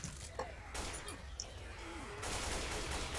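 Shotgun fire in Left 4 Dead 2, a few quick blasts amid chaotic game noise, fairly faint and busy, with bursts of louder clatter.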